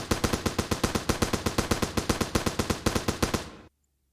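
A tiny anti-aircraft gun in From the Depths fires a rapid, steady burst of about thirty evenly spaced shots, loud and close, then stops abruptly into silence.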